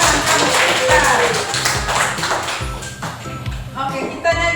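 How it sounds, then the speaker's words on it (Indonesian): Young children in an early-childhood religious and moral education lesson clap their hands in a steady rhythm, the claps close and loud, with voices talking over them. "Tepuk tangan kamu pintar"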